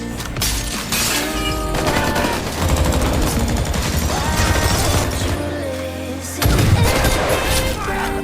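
Dense bursts of rapid gunfire and machine-gun rattle in a jungle battle between soldiers and a drug cartel, loud and continuous, with booming impacts and a voice partly underneath.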